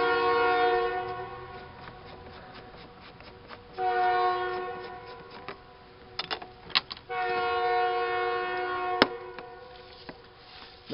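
A loud, sustained train horn blares in long blasts separated by brief pauses, with some clanking mechanical noise in between, fairly close.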